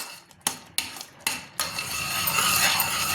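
A ladle stirs semolina in a metal pan, several sharp clinks of utensil against the pan followed by a continuous scraping, frying hiss close by.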